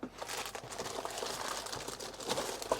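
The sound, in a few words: plastic bag crinkling as a console is unpacked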